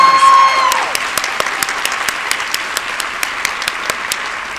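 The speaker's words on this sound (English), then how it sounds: "Please give them a round of applause." A round of applause from an audience at a nursing association awards event honouring a legislator, starting as a full burst of clapping then thinning to scattered individual claps, with a brief tone at the start.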